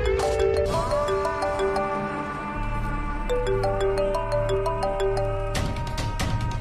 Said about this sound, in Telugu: ఈ సరోజ కుతి ఫోన్ చేస్తూ సావ కొడుతూనే ఉంది.